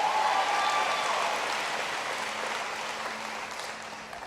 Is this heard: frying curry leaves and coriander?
no